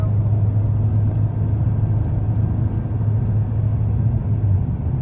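Car driving along a road toward the Canadian border, a steady low engine and road rumble heard from inside the cabin, continuous and even throughout with no talking.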